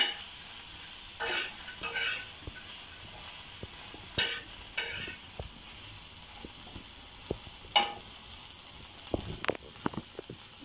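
Onion, garlic and ginger sizzle softly in a pan while being stirred, with scraping strokes and small clicks of the spoon coming in irregular bursts over a steady low frying hiss.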